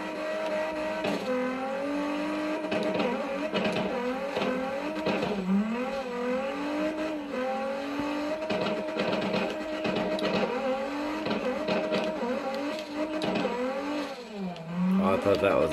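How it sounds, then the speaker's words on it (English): A Nissan GT-R race car in a drifting video game on a snowy track, its engine revving and shifting down continuously with rising and falling pitch, loud and steady throughout. "Little downshift with the bumper action for the boys."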